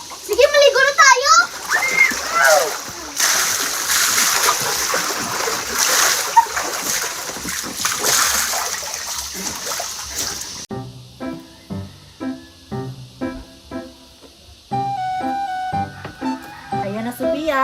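Children splash about in a backyard swimming pool, water sloshing and splattering under excited kids' voices and chatter for the first part, then giving way to a tinkly music-like melody.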